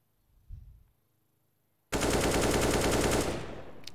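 Sustained burst of automatic rifle fire in CS:GO, loud and close, pouring continuously through a smoke for about two seconds after a brief quieter thump and near silence.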